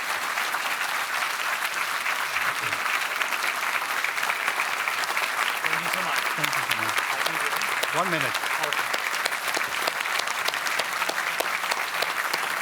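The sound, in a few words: applause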